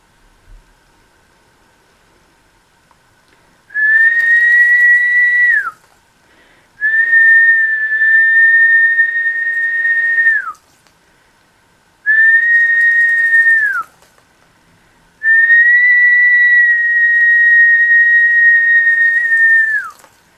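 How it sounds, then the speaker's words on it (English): A person whistles four long steady notes, each held for a couple of seconds, separated by short pauses, loud and close. "I'm going to whistle."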